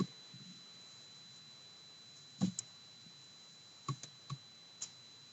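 Several sharp computer mouse clicks, close and fairly faint, come singly and in a quick pair while selecting and opening an image file to upload, with a steady electronic hum underneath.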